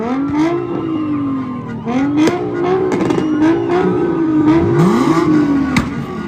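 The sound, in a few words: car engines revving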